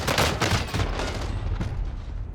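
Rapid gunfire from Call of Duty Warzone fills the moment, a loud dense burst of overlapping shots that decays toward the end.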